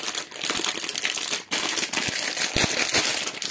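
Individually wrapped bamboo wood sticks are unwrapped, giving continuous close crinkling and rustling of plastic packaging with sharp crackles and a brief pause midway.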